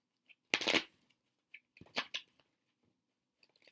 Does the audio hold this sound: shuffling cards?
yes